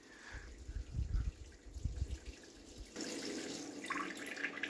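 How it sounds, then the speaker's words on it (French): Water flowing in a shallow tidal current at low tide, a soft continuous trickling and gurgling close by, steady and fairly quiet, with the texture shifting to a brighter rush partway through. "Et ben on entend l'eau couler."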